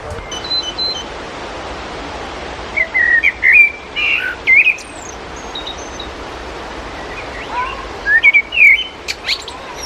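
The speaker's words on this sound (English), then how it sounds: "It sounds like in the jungle or like in the rainforest. All those animals, and you hear so many animals." Birds chirp and whistle in short scattered bursts inside a botanical garden greenhouse, with some calls near and others farther off, over a steady background hiss.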